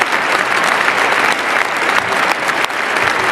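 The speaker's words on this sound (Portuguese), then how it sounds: "o pessoal ficou de pé aplaudindo essa decisão do Donald Trump" A large crowd stands and applauds a decision by Donald Trump to end censorship, a loud, sustained wash of clapping that keeps going without a break.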